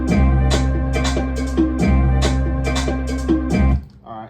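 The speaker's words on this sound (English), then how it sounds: "Y'all can hear in that drum that there's 2 claps in it, or hi-hats" A drum sample plays on an Akai Force: a loud, repeating beat with tonal hits and a doubled clap in quick succession, looping twice before cutting off near the end.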